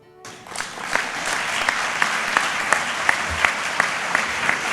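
Full audience applause at an awards ceremony swells in quickly and holds steady, a dense wash of clapping with a few sharper claps standing out.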